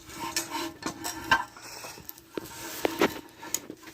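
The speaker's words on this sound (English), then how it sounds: "Let's see if I can rock the tank without dropping it." A porcelain toilet tank rocked into place on the bowl, irregular close scrapes, grinding creaks and hard knocks of ceramic and hardware shifting, uneven and halting.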